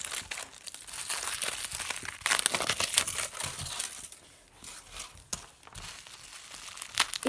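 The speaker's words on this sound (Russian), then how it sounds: "Дальше у нас идет опять фольга." Close, crisp crinkling and rustling of a foil wrapper being peeled open and crumpled by hand, continuous with sharper crackles throughout.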